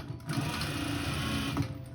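A sewing machine runs continuously, top stitching rows along the hem of a blanket coat, a steady close mechanical whir with no speech.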